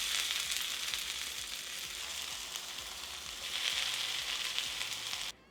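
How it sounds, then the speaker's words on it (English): Slices of vegan, gluten-free French toast fry in a pan, giving an even, close sizzle and crackle that holds steady for several seconds and then stops abruptly. "We're gonna cook these for about 3 to 4 minutes per side until they're golden brown."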